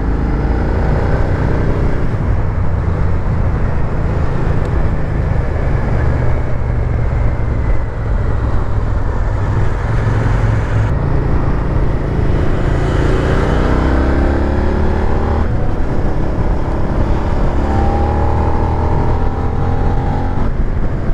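A Suzuki SV 650 motorcycle engine runs loudly and steadily throughout, with rising revs as it accelerates, close and continuous with no talking.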